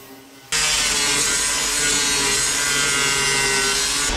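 A power sander starts abruptly and grinds steadily against the wooden hull of a canoe kit, a loud, continuous abrasive whir and rasp that runs without pause for several seconds.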